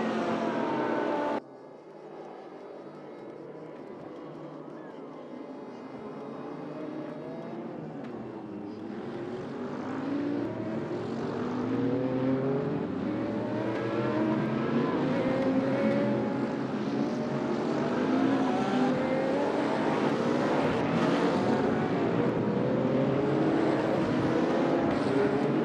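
GT race cars circling Paul Ricard in a racing video game, a dense engine drone that swells steadily louder as several cars run close together, with no talk over it.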